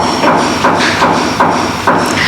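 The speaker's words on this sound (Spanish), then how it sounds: "tengo un vecino que está martillando" A neighbour hammering nearby: sharp, loud blows land at a steady pace of roughly two per second, each a crisp impact that rings briefly, with no voices.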